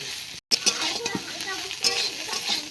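Spices such as turmeric and chilli powder are stirred through a hot frying pan, giving a near, steady sizzle with repeated scraping strokes and a brief dropout partway through.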